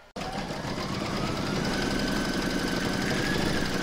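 A computerized embroidery machine runs steadily, stitching a round on an in-the-hoop mandala placemat, its fast, even needle rhythm humming close and loud without a break.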